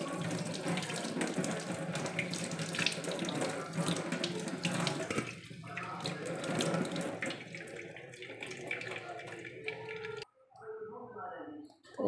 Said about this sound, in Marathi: आता हिच्यावर आहे ना थोडंसं गार पाणी शिपका द्यायचा